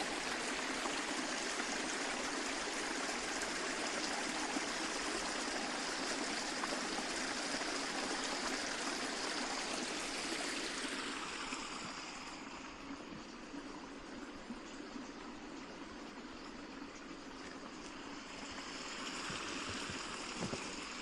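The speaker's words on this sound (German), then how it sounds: "Und wir gehen wieder über den Bach." A brook flows steadily with a continuous rushing, trickling wash of water, close and even, while hikers cross it; the sound eases slightly partway through.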